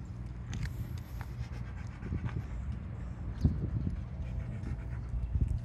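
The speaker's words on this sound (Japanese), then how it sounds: "犬のマリアを散歩させながらあのヨットハーバーに来ました" A dog panting while being walked at a yacht harbor, breathing steadily and close up over a low outdoor rumble with some scattered small thumps, and no one talking.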